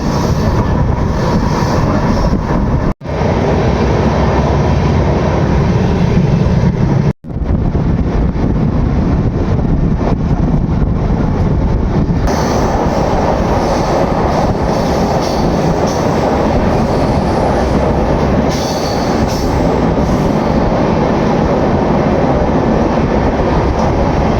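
The Andaman Express rumbles loudly and continuously through a tunnel in the Vindhya range, its roar enclosed and droning, with brief dropouts and a rushing change in tone partway through.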